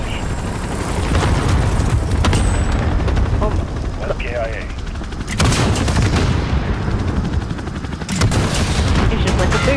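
Loud, sustained machine gun fire from a gunner support in Call of Duty: Modern Warfare multiplayer, long heavy bursts with booming impacts, broken by short pauses.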